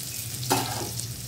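Potatoes frying in a pan for a jhinge-aloo fish curry, a steady soft sizzle with one brief clatter or stir midway, close and fairly quiet, no voices.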